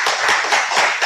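An audience at a SVFIG 2014 meeting claps in a short round of applause, a dense patter of hands close by with a slight echo from the room, with no voices over it.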